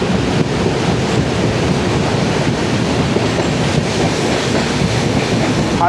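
A passenger express train rolls across the Farakka Barrage, a long river dam, with steady broadband rumble and faint wheel clatter over rushing water, loud and continuous throughout with no voices.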